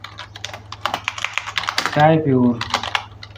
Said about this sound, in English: instead of that we need to type